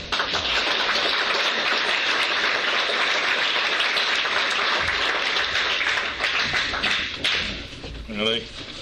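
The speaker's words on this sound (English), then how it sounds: "Only in Alcoholics Anonymous do you get applause for being a drunk" An audience at an Alcoholics Anonymous speaker meeting applauds the speaker: sustained, crowded clapping that holds steady for most of the stretch and thins near the end.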